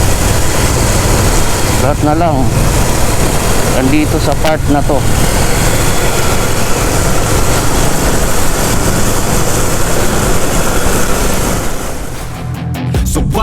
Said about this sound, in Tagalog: Ang lalaki ng mga sasakyan, ang daming kotse, ang daming motor